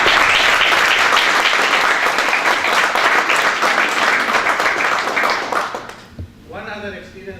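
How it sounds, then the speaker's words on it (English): Audience applause honoring an institute's organizers: loud, thick clapping from a crowd that holds steady, then fades out near the end as a speaker resumes talking. "I think they deserve a round of applause from all of us"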